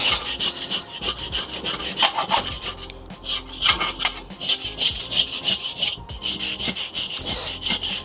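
A brush scrubs grease off the enamel of a Weber Master-Touch grill in quick, rhythmic back-and-forth strokes, a harsh close scratching with brief pauses, no talk.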